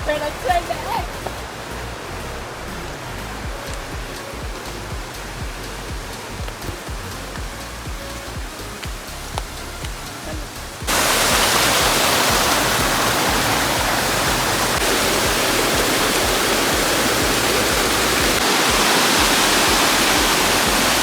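A hidden forest waterfall in Kodaikanal, first a distant low rush, then abruptly a loud, dense, roaring wash of falling water up close that holds steady to the end.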